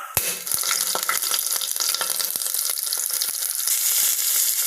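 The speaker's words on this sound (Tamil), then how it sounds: "பச்சை மிளகாய் வெங்காயம் சேர்த்து நல்லா வதக்கிக்கலாம்." Green chillies and onions being sautéed in a pan for chicken biryani, a steady close sizzle with scattered sharp crackles and pops running throughout, no talking.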